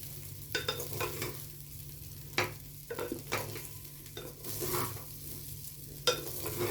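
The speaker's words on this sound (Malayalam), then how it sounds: "ചോറ് കുഴഞ്ഞു പോകാത്തവണ്ണം ഇങ്ങനെ അടിയിൽ നമുക്ക് നല്ലോണം ഇങ്ങനെ ഇളക്കി മിക്സ് ചെയ്യാം" Veg fried rice stirred and tossed in a pan, a steady sizzle under repeated scraping strokes of the spatula, close and moderately loud with no talking.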